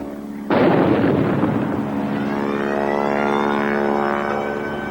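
A bomb bursts into a sudden heavy roar over London's Liverpool Street Station target, then settles into a long sustained droning rumble with a steady engine-like tone, loud and unbroken, with no speech.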